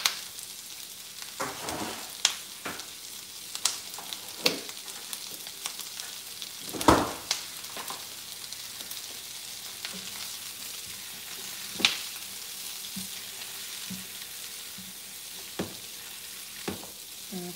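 Onions caramelizing in a pot for an Irish beer pot roast stew give a soft, continuous sizzle broken by occasional scrapes and clinks of stirring, with no one speaking.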